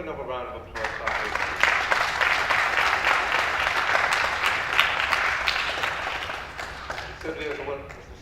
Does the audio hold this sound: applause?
yes